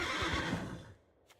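A horse neighs loudly and briefly as the Ostrich Horse card is played in a card video game, the whinny fading out within a second.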